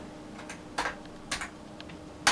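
A command being typed on a computer keyboard at an MS-DOS prompt in Windows 95, a handful of light, sparse key clicks close by in a quiet room.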